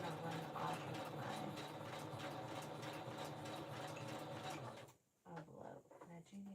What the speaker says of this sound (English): And I do need to open my flap up so I don't sew the flap shut.